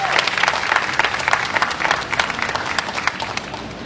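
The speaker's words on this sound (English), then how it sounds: "Give a hand clap to that." A crowd at a city summer youth jobs event claps and applauds, with distinct individual hand claps standing out over a denser bed of applause for a few seconds and slowly tapering off.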